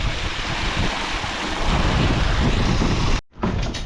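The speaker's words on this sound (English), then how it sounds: "there's a lot of water going down there." Rushing water flows steadily down a bank beside a sheep pasture, a loud broadband roar mixed with wind buffeting that cuts out briefly near the end, with no talking.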